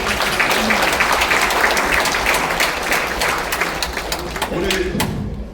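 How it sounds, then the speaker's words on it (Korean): Audience applause at a memoir book launch in the National Assembly Museum as a guest is introduced, crowded clapping with distinct sharp hand claps and some voices mixed in, tapering off at the very end. "박수로"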